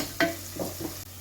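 Salted onions frying in a pan, a soft sizzle with one sharp scrape of a spatula followed by a couple of lighter stirring strokes, close and quiet, with no voices.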